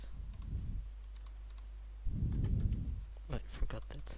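Quick clicks of computer keystrokes, someone trying out a keyboard shortcut, come in short scattered bursts between low rumbling noise, with a voice nearby.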